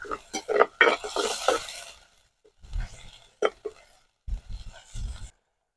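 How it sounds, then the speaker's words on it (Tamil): Tomatoes being stirred into a chicken tikka masala gravy in a pan over medium heat: several bursts of scraping and stirring, close up, with short pauses between strokes. "அது வந்து நல்லா பச்சை வாசம் போகிற வரைக்கும் நல்லா கிண்டி விட்டுக்காங்க"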